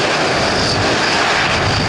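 Military aircraft engines roar at a Bundeswehr special forces demonstration with H145M, NH90 and Tiger helicopters and a transport aircraft, a loud, steady broadband drone filling the whole stretch without pause.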